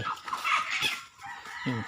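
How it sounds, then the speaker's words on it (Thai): Chickens on a rural farm making short clucking calls, a few close, quick vocalizations in a quiet setting. "ไก่"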